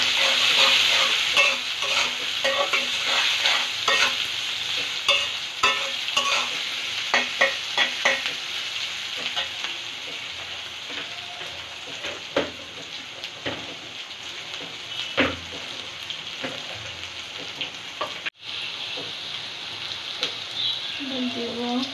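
Bay leaves sizzle in hot oil for a Bengali fish curry, a steady loud crackling fry with repeated stirring scrapes running throughout, close by, with no talk over it.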